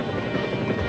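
Helicopter in the PlayStation 2 game City Crisis, a continuous, dense rotor and engine drone that stays loud and steady without pause.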